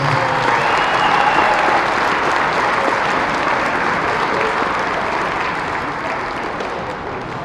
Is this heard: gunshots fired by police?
no